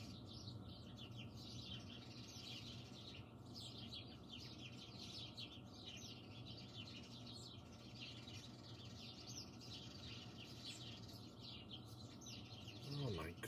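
Small birds chirp and twitter steadily outdoors, a continuous busy chorus of high calls over a low background hum, fairly faint and without pause.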